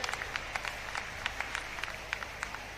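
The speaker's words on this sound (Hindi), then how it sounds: "एक बार जोरदार तालियों से सरदार जी का सम्मान करें।" A rally crowd at a grain market in Dadri claps to welcome Punjab Chief Minister Bhagwant Mann; the clapping is faint and scattered, with separate claps popping out over a low hum.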